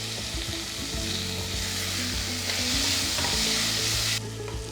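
Chopped tomatoes frying and stirred in a pan, a soft continuous sizzle with scraping stir strokes throughout.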